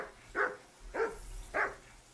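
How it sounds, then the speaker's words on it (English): A dog barking at a camp in the video game Kingdom Come 2, three evenly spaced, moderately loud barks heard alone over a quiet background. "and now a dog is barking"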